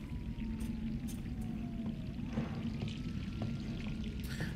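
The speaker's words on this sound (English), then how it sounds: "Oh, the water's still running." Water running steadily from a tap in Resident Evil 3 Remake, a constant close pouring rush with faint clinks and a low tone drifting in the background.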